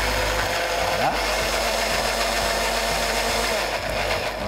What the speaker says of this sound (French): on va mixer tout ça avec un petit peu d'eau.